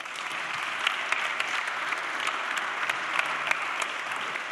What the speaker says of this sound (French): D'abord, on peut vous remercier, vous applaudir.